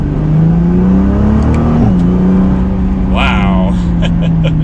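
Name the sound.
2020 Nissan GT-R 50th Anniversary accelerating in second gear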